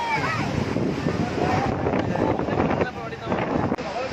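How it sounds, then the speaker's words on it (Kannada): Loud, continuous wind buffeting a microphone at the Hemavathi reservoir in Gorur, rumbling and roaring throughout with gusty fluctuations, a short dip near the end. "ಗಾಳಿ ಹೊಡಿತಿರೋದು"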